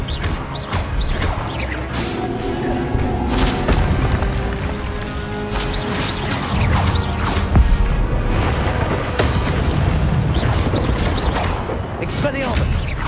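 Expelliarmus spell combat in Hogwarts Legacy: a dense, loud run of booms, crashes and sharp blasts fired in quick succession, with a voice talking underneath.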